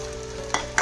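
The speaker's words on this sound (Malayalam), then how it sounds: "ഈ സമയത്ത് നമുക്കിതാ നമ്മൾ ഉണ്ടാക്കി വെച്ചിരുന്ന ആ സോസ് ഇതിലേക്ക് ഒഴിച്ചു കൊടുക്കാം കേട്ടോ." Sauce poured into sizzling chilli chicken in a frying pan and stirred, a steady hiss broken by two sharp splashy bursts near the end.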